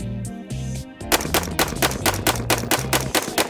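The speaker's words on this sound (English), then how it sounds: "you can shoot them fast, you can shoot them slow." A newly bought gun at a sporting goods store fires a rapid string of loud, close shots in steady succession after a brief tonal sound, with no talking.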